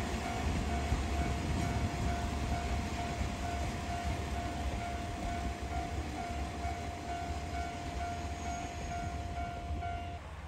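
A JR Sakai Line train bound for Sakaiminato passes a shrine beside a level crossing, a loud, steady rumble of wheels and carriages that holds for the whole stretch with no voices over it.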